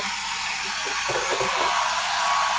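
A hair dryer blowing on freshly painted craft leaves, a steady close whirring hiss that holds at even loudness throughout with no talking.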